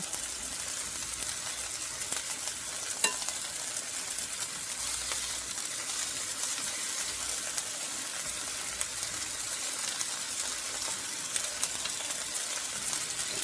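Beef tips dusted in cornstarch sear in a large cast iron skillet, giving a steady, dense sizzle and crackle that runs unbroken and fairly close throughout, with a small clink near the start.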